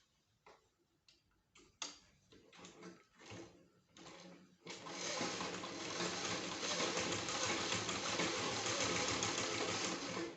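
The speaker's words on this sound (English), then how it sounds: "We're going to sew all around." Sewing machine stitching around the edge of a scrap-fabric coaster: a few short bursts of stitching at first, then a loud continuous mechanical whir with a rapid ticking rhythm, close and unbroken to the end.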